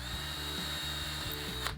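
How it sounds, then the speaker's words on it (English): A power drill bores a small hole through pallet wood slats. The motor whirs steadily with a faintly pulsing, ratcheting texture and stays close throughout, with no speech. "So I'm just going to drill a small diameter hole through at the end or near the end of the slats."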